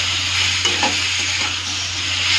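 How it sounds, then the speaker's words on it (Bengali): Chopped ripe tomato frying in a pan and being stirred, a steady close sizzle with a few soft scrapes of the spoon. "টমেটোটা ছেড়ে দিয়ে ভালো করে মিক্স করতে দেবো।"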